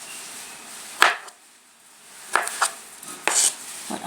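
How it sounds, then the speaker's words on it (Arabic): A knife chopping garlic and ginger on a board, a few separate sharp cuts with quiet gaps between them, close and clear. "بتقطيع الثوم الآن"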